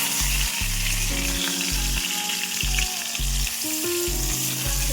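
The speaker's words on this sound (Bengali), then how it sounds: "দেখো আমার কিন্তু পটলগুলো বেশ লাল লাল করে ভাজা হয়ে গেছে।" Pointed gourd pieces fry in hot oil with salt and turmeric, making a loud, close, continuous sizzle with occasional stirring scrapes and no talking.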